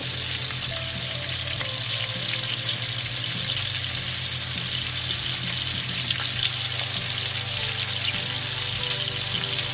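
Whole garlic cloves fry in a pan of hot oil alongside white onion, giving a steady, close sizzle with soft crackles that runs unbroken throughout, with no talking over it.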